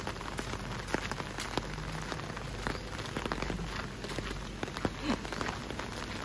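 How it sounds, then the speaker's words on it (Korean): Rain falls steadily on Phi Phi Island, Thailand, with a dense, even patter of drops and scattered louder splashes close by, continuing throughout without any talk. "비가 와서"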